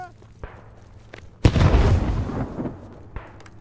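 Grenades exploding in the First World War shooter Beyond The Wire, one loud booming blast followed by a rumbling tail, with a few sharper distant shots around it.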